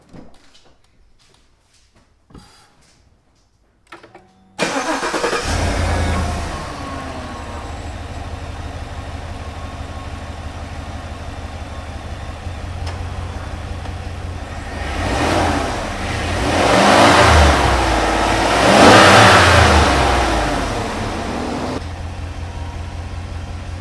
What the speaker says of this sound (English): Okay, it's installed. Let's start the truck up.